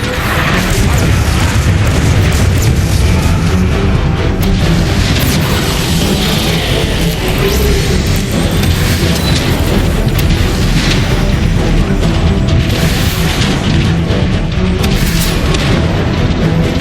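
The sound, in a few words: artillery strike explosions in the video game Transformers: Fall of Cybertron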